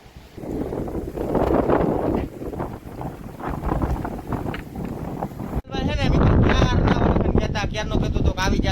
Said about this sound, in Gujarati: પવન એવો ફૂંકાય છે